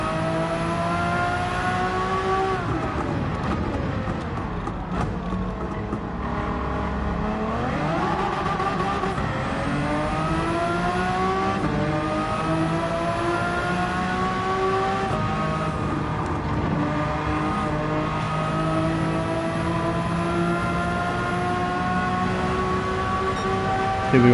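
A Group C race car in Gran Turismo 7 drones loudly around a circuit, engine pitch rising and falling through corners and gear changes over a long continuous stretch, with no one speaking.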